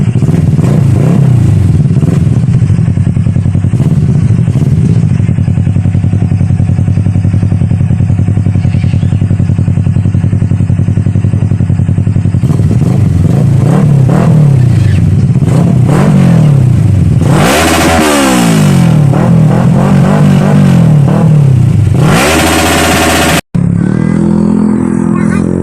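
Kawasaki Versys 650 big bike engine turning over and idling, then rising and falling through repeated revs with a rough, throaty drone and clatter, very loud and close throughout, ending with an abrupt cut.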